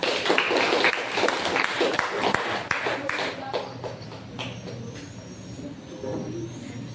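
Classroom applause in an Indonesian lesson, a lively burst of many hands clapping that thins and fades after a few seconds, leaving murmuring voices and room noise.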